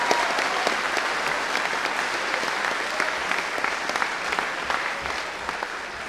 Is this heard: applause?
yes